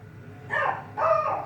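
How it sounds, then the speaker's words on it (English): Two quick barks from dogs reacting to the postman, close and moderately loud, one after the other in under a second and a half. "Just shut my dogs up barking at the postman."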